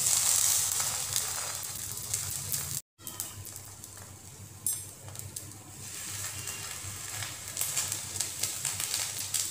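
Bread slices laid carefully into oil spread in a kadai sizzle steadily with a bright, continuous hiss, broken by one brief silent gap, no talk.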